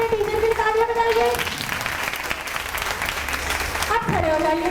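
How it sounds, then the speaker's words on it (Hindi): A classroom audience at a Montessori teaching session claps for their teacher. The burst of loud, close applause rises between spoken voices before and after it, holding steady for a few seconds. "अब अपने टीचर की तालियां बजाइए"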